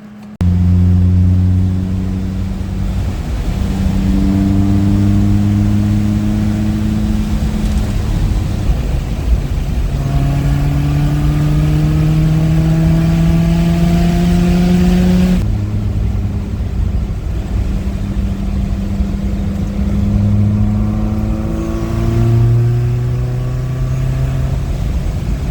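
A 1974 BMW 2002 fitted with a swapped M42 four-cylinder engine runs and revs through repeated climbs in pitch, loud and close throughout, with steady idle-level drone between the rises.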